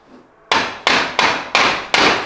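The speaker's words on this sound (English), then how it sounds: "beat this cotter pin" A hammer strikes a cotter pin on a Toyota J160 transmission, five loud, sharp metallic blows at a steady rhythm after a brief quiet start.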